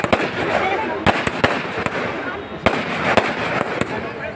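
Firecrackers bursting during a Durga Puja celebration, sharp loud pops and bangs recurring irregularly over a dense crackling, hissing background, with crowd voices mixed in.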